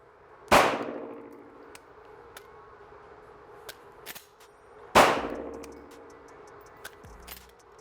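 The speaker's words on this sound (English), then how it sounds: "Tap, rack, fire again, click, no bang." Two sharp, loud pistol shots about four seconds apart, each with a ringing decay, separated by small metallic clicks and handling taps during a tap-rack malfunction drill.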